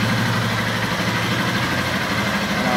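A Honda Titan 150 Mix motorcycle fitted with a chrome straight-through exhaust idles while warming up. It gives a steady, loud, low rumble up close and runs without a break the whole time, with nobody talking over it.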